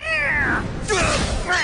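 A black cat in an animated martial arts story meows in two or three drawn-out, wavering cries, close and clear with a short pause between them.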